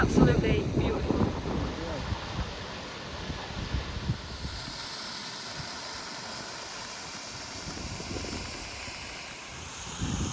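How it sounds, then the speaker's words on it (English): Gusty wind buffets the microphone with rough rumbling bursts on a Lake District hillside, strongest at the start, then settles into a steady outdoor whoosh. "it's quite windy"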